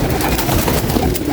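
Pigeons kept in a breeding setup coo in a dense, continuous, close-up chorus, loud and overlapping, with flapping and rustling throughout.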